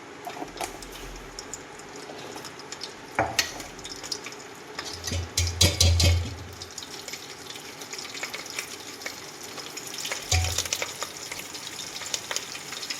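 Cumin seeds, curry leaves and mustard seeds sputter in hot oil in a pan, a soft continuous crackle with a few louder bursts of sizzling, heard close with no talking.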